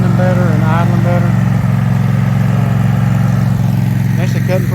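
A lawn mower engine with a recently suspected fuel problem idles steadily and loudly throughout while mowing, a low constant hum beneath someone talking over it.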